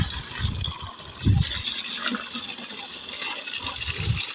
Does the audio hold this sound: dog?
no